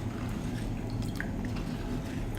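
Chili powder and salt stirred into tamarind liquid for an anchovy fish curry: soft continuous sloshing and faint drips, close and quiet over a steady background hiss.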